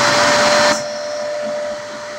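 A Hoover vacuum cleaner runs with restored suction, a loud close-up roar that drops to a lower, steadier hum partway through.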